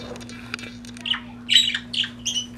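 A breeding budgie squawks and chirps in short, sharp bursts, several close calls spaced irregularly over a steady low electrical hum.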